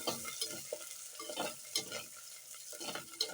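A single green chili sautéing lightly in a pan for a homestyle fish curry, with soft sizzling under repeated rhythmic spatula scrapes and stirs, close and fairly quiet.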